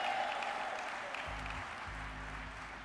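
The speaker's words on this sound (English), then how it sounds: "Let's give them a round of applause." An audience at an NAACP convention applauds in a steady, dense wash of clapping heard from a distance, with a low hum entering partway through.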